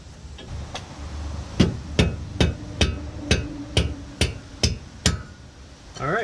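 A hammer taps a coilover part on a Mitsubishi Evo X (Fortune Auto 500 coilovers) to line up a bolt, with about ten sharp, evenly spaced metallic knocks, close and loud, and no talk.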